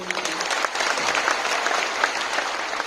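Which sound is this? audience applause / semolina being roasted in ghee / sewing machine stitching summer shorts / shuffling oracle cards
audience applause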